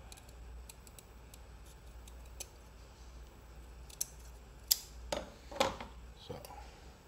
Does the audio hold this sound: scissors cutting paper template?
yes